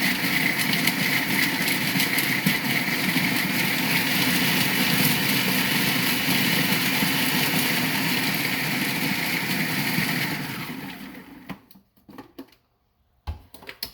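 Small food processor spinning an energy ball mixture, a steady whirring motor drone for about ten seconds that then cuts off, followed by a few soft clatters and near silence.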